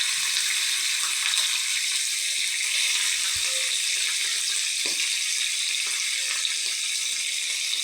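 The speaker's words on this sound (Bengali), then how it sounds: "আমি জিরে ফোড়ন দিয়েই পনিরটা ভাজলাম।" Paneer cubes fry in hot oil with cumin seeds, giving a steady, bright, continuous sizzle at an even level with a few faint clinks and stirring touches underneath.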